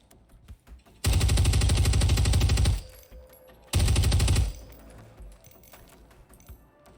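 A light machine gun fires in the video game Ground Branch, two long, loud sustained bursts of rapid shots, close and dominant, with quieter clicks and ambient sounds between and after.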